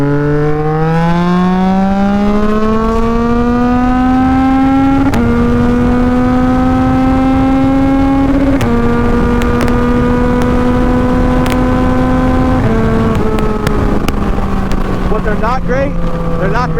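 A dual sport motorcycle riding on a road, its engine a loud, steady drone that climbs in pitch through each gear and drops at the shifts, with heavy wind buffeting over it throughout.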